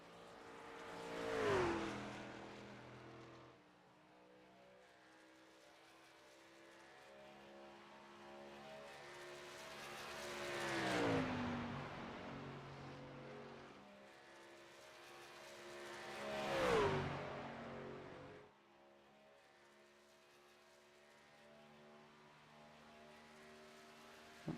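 Race car engine on a qualifying lap at Darlington in the iRacing game, sweeping past three times with rising and falling engine pitch that swells loud at each pass, then fades to a steady distant drone between passes.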